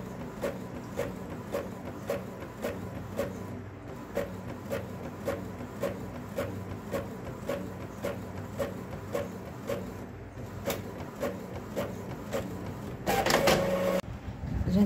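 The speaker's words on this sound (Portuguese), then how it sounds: "Agora eu coloquei as folhinhas rosas ali e vou imprimir." An office printer runs steadily while printing pink paper sheets, its mechanism ticking in a regular rhythm of clicks and feed passes, close and moderately loud, with a brief louder whirring burst near the end and no talking.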